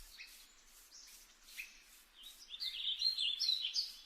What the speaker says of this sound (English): birds singing in the forest